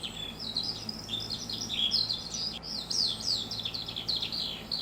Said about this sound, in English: That bird's loud.